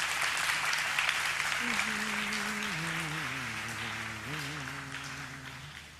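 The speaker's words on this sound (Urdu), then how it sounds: "ہماری بہن کے لیے بہت سی تالیاں" Studio audience applauding during a televised Milad iftar transmission, steady clapping throughout with a sung or chanted voice rising over it midway.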